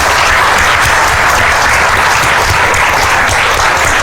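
An audience at a ceremony honouring a civil services exam topper claps loudly and steadily, a dense, continuous wash of applause filling the room without a break.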